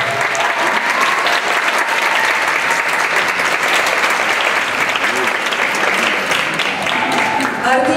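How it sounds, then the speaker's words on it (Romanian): An audience at the 10th-anniversary edition of the Lira music festival in Romania bursts into sustained, loud applause. The dense clapping holds steady for several seconds, with a few faint voices underneath. "aplauze pentru Luminița Angel!"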